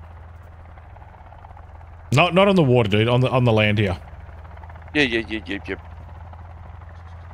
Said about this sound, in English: this helicopter's already hovering around here, too